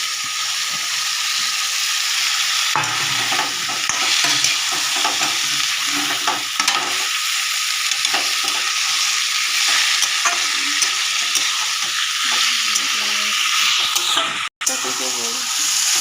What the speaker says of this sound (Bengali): ভালো করে নেড়ে এবার ছোলাগুলো দিয়ে দিলাম।